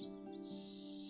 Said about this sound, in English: The barred owl's haunting call sounds like, "Who cooks for you?"